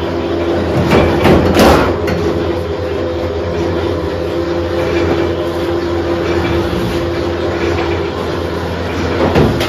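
A chowmein dough-sheet pressing machine runs loudly and continuously, a heavy mechanical rumble with rhythmic clanking and rattling, plus a sharper burst of clatter near the start.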